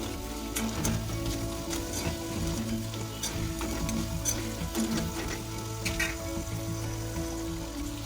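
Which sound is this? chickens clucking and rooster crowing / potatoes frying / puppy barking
potatoes frying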